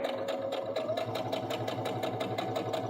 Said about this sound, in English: And I can just sew down.